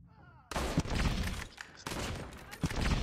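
Gunfire in the mobile shooter Call of Duty Mobile, loud dense bursts of shots starting after a quiet half second and continuing almost without pause, with a brief dip near the middle and a voice underneath.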